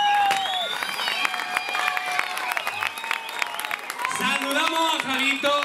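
A crowd applauds along a carnival float parade in Barranda, Caravaca de la Cruz, with steady clapping and cheering mixed under a loud, tuneful voice and background music.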